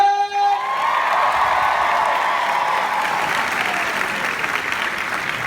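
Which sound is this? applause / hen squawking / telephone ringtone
applause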